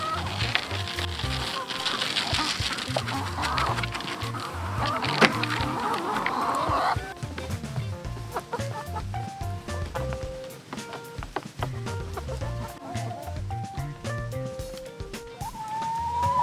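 Laying hens on a farm cluck and cackle nearby in a busy, irregular chorus, with scattered scratching and light patter, and no clear talk over them.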